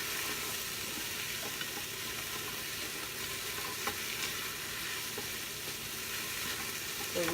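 Plant-based penne ingredients browning in an Instant Pot, a steady, even sizzle and crackle heard up close and alone, with faint stirring scrapes and no talking.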